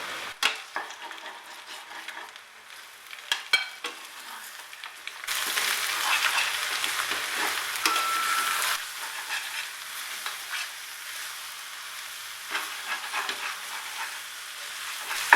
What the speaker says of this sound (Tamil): அடி பிடிக்காம இருக்க கைவிடாமல் கிளறிட்டே இருங்க.